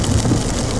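Rain and road spray on a wet road heard from inside an Audi e-tron electric car towing a trailer, a steady broadband wash of noise with low rumble, fairly loud and continuous, no talking.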